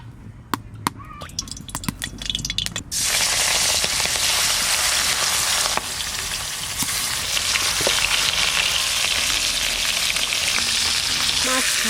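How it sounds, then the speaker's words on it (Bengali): Fish frying in hot oil in a home kitchen: a few sharp crackles and pops at first, then a loud, continuous close-up sizzle that stays dense and even throughout. "মাছ ভাজা চাপাবো, তেল দিয়ে দিলাম।"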